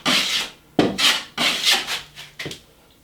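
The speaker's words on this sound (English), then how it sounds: "I'm just filling out some little holes that was in the wall." Joint compound being spread over small holes in a drywall wall, a blade scraping in several close, rasping strokes with brief pauses between them.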